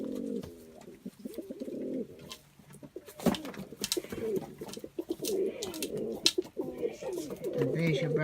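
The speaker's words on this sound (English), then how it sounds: "Mummy's bird, Elijah." A white pet dove coos indoors in soft, repeated rolling phrases, fairly close, while a quiet voice talks at moments.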